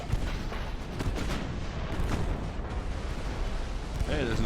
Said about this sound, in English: Hey, there's another torpedo hit.